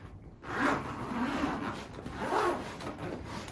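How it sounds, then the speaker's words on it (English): The zipper on a zippered carry case slides open in a couple of long rasping pulls, close and moderately loud, with no talking. "Let's unzip the case and see what we have inside."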